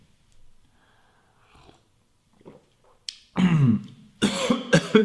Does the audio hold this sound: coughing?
yes